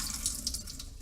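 Water drains out of an opened can in a short, continuous trickling splash close by, with no voices.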